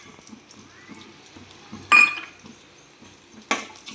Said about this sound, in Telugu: ఇవన్నీ వేసుకొని మంచిగా దూరగా వేగేలాగా కొద్దిసేపు స్టవ్ మీద మీడియం ఫ్లేమ్లో ఉంచాలి